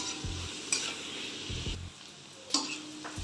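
Onions frying in a pan for pav bhaji, a soft continuous sizzle broken by a few close scraping stirs and light clinks of a utensil against the pan.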